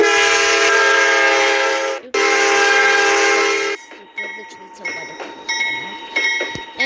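A CSX AC4400 freight locomotive sounds its horn in two long, loud blasts, then rolls past with rumbling and clanking wagon noise close by.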